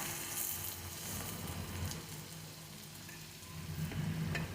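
Colocasia leaf fritters (alu vadi) frying in oil over a low gas flame, a steady close sizzle and crackle with soft bubbling pops, continuous and without talk.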